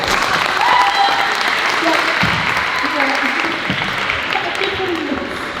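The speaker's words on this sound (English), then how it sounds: "So round of applause for yourself." Audience applause fills a show choir cabaret, a steady dense clapping that stays loud and even throughout with faint voices mixed underneath.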